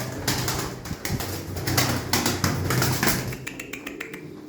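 Domestic show-flying pigeons, a group of about eighteen birds kept in a loft, make steady near cooing with scattered wing flaps and taps throughout.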